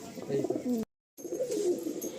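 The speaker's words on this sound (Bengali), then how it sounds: "আর ভাইয়ের কাছে নাকি মারাত্মক ফ্লাইও করেছে এই পায়রাটা।" Low, throaty cooing from Nazra kaldom long-size pigeons rolls on continuously nearby, broken by a brief dead-silent gap before the soft burbling resumes at the same level.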